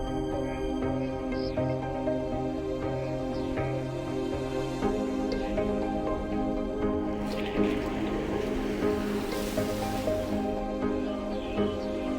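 Steady rain falls at a dry lake in the mountains of Kabardino-Balkaria, a constant soft hiss with scattered drips and splashes that grows a little busier toward the end.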